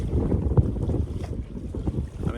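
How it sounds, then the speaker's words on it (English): Gusty wind while sailing a Beneteau Evasion 32 in the cold North Atlantic in December, loud rumbling buffets against the microphone with water washing beneath, no voices. "It's some pretty gusty conditions here every now and then"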